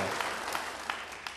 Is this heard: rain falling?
no